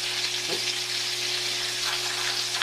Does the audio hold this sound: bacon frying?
yes